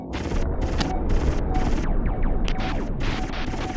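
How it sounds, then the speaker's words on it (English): Rapid bursts of gunfire in the PlayStation game G-Police, loud repeated volleys with short gaps between them and a sharp crack midway, dense and continuous. "Incoming fire."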